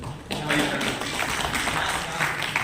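Thin, scattered applause from an audience in a meeting hall, a few hands clapping at moderate loudness in a ragged, uneven patter that never builds to a full ovation.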